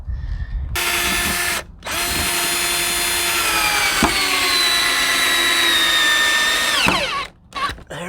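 A power drill drives screws into wooden boards for a woodshed build: two long, loud whirring runs close by, the motor pitch sliding down as each screw pulls tight, with a brief pause between them.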